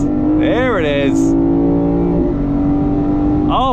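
A 2024 Lexus IS500 engine idles with a loud rumble, then two quick throttle blips rise and fall sharply, heard from inside the cabin.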